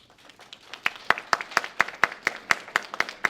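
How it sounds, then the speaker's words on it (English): A small audience claps at a community event for Disability Awareness Month, a thin run of about a dozen distinct, evenly spaced claps that start faint and grow slightly firmer, sounding like only a few people. "An applause."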